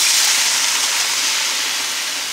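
Water is poured over macaroni in a pot with a steady, hissing, splashing rush. It is close and constant, fading slightly toward the end, with no voices.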